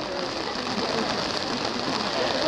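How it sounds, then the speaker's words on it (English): Heavy rain pours down on an outdoor wedding, making a dense, even hiss of drops on surfaces, with a faint bird call and quiet crowd murmur underneath. "This wedding will take place despite quite a downpour."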